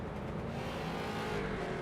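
Street stock race cars from the iRacing game circle Hickory Motor Speedway, a steady dense engine drone from the pack holding at an even level throughout.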